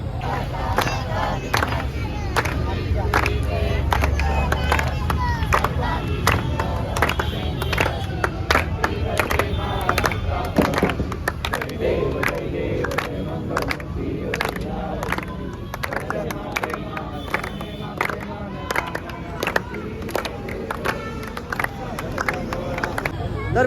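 Crowd gathered for Ganpati aarti before the immersion, a dense continuous mass of voices chanting with scattered claps, loud and close throughout.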